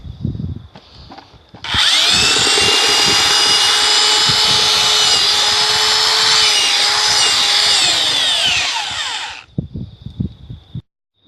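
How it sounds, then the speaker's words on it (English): A power drill churns a bucket of clay, water and mulch slurry, a loud steady whirring grind lasting about eight seconds, bracketed by softer knocks and handling noises before and after. "We've slurried it with the drill over there"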